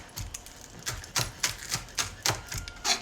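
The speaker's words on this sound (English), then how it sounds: "you can cut all the way up into the green until it starts to get kind of thick" Knife chopping green onions on a cutting board, about a dozen crisp, close taps in an irregular rhythm, some falling in quick pairs, with no voices.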